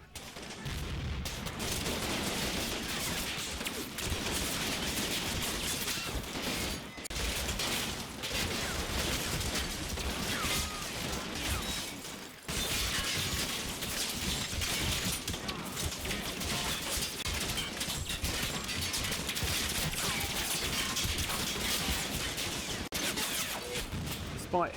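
Gunfire and demolition charges in the World War II game Combat Mission Battle for Normandy roar through a dense, continuous battle soundscape of rapid small-arms bursts and heavy explosions during a bunker assault in Normandy.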